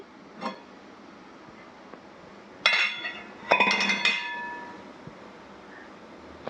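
Metal steamer parts clink and clatter as the lid comes off after steaming coconut pitha, with a faint early tap, then two bright bursts of ringing knocks and rattles against a quiet kitchen background.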